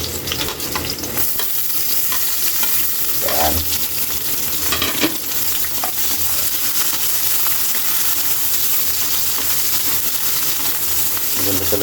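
Onions added to hot oil, sizzling loudly and steadily alongside garlic while being stirred, with occasional clinks of a utensil against the pan, close throughout.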